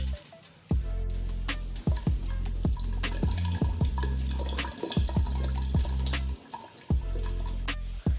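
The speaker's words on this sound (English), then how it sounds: "So you pour some water on it" Water is poured and swished over rice grains in a bowl as the rice is washed, with repeated sloshing and dripping bursts in an uneven rhythm.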